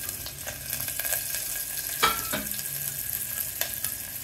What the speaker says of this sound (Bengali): এবার নেড়ে চেড়ে পেঁয়াজটা ভাজা হলে,